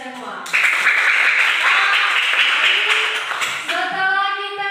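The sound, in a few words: classroom applause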